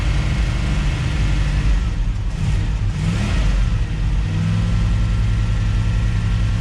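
Old $500 Chevy van running on a mix of fresh and old gas, a steady close engine rumble that swells briefly as if revved, then settles back to a rough idle, with no talk.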